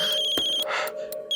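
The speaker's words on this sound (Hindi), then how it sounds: "किसका फोन है" Electronic phone ringtone chirping indoors, short repeated tonal bursts with brief pauses between them, fairly quiet and heard alone without talking.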